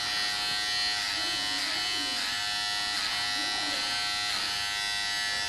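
An electric hair clipper buzzing steadily and close while cutting two children's hair at home, a continuous whine with slight dips as it moves, and voices talking over it.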